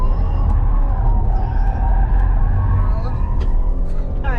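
A 2022 Kia Carnival minivan's engine revs hard under acceleration while driving, a loud steady low roar with road and wind noise throughout, with no voices.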